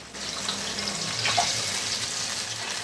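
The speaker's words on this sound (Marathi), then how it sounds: "पाण्याला तर उकळी आलेली आहे" A pot of water at a rolling boil while cooking spiced wheat chik, a steady bubbling hiss that runs unbroken and close for a few seconds, with no voices.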